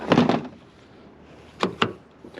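Car door on a JZX100 shell being unlocked and opened: a pair of close clunks at the start, then two sharp latch clicks a moment later, with faint handling noise between and no talk.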